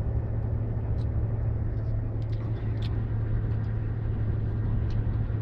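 A 2015 Ram ProMaster City van cruises on a highway climb at about 2100 RPM, heard from inside as a steady low engine drone and road rumble with faint rattles and no talking.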